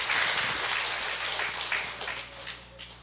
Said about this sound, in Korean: 그럴 때는 하나님께 영광의 박수를 돌립시다.